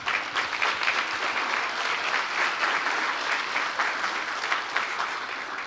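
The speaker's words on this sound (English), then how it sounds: "I do want to give a huge round of applause for the Director's Award recipient of Wind Ensemble, Eli Zamorano." A school spring band concert audience gives sustained, even applause, a thick wash of many hands clapping at once, steady and fairly loud throughout with no speech over it.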